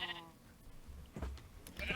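Sheep bleating inside a glass-enclosed sheep farm on a mushroom island in Minecraft, a few short bleats heard alone at moderate volume, one near the start and a louder one at the end.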